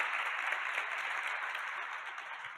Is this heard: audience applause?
yes